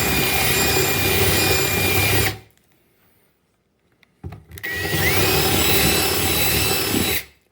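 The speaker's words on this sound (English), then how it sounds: "Now we get a bigger bit, just so the head of the screw is countersink a little." A power drill fitted with a bigger bit countersinks a screw hole in a kitchen cabinet, whirring loudly in two steady bursts separated by a short pause of near silence.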